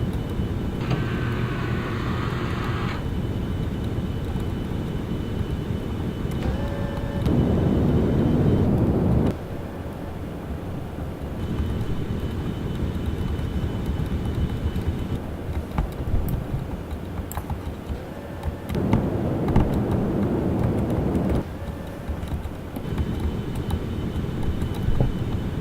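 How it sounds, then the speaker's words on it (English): Hover thrust engines of a spacecraft coming in to land in the Orbiter 2010 game: a continuous rumbling roar that swells into louder bursts and then eases back, with no voices. "Provide some hover thrust."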